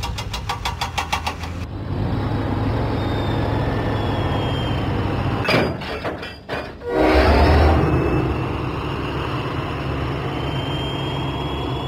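A train engine runs along the tracks in a Thomas and Friends children's video game, a steady rumble that carries most of the way through, with a brief break of choppy noise partway in.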